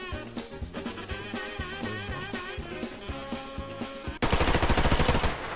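Rapid automatic gunfire bursts out in the online shooter game Survarium, a loud fast rattle of shots that takes over after a stretch of in-game music and tonal effects.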